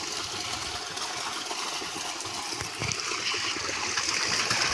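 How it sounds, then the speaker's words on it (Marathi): Water running steadily through an irrigation pipe feeding trees in a village garden, a continuous broadband gush and trickle that grows slightly louder toward the end, with no talking. "हे उघडलं ना की इकडे पाणी जातं।"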